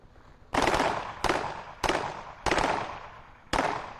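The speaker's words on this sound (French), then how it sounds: "Entendez, il y a des coups de feu." Five sharp video game gunshots ring out at irregular intervals, each with a long echoing decay, sounding distant and moderately loud.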